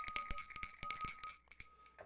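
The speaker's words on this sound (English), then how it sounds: "Want me to ring the bell? I will ring the bell." A bell rung repeatedly in a model-building workshop, a run of bright, close metallic strikes with ringing overtones, several quick hits in an uneven rhythm, loud and with no talking.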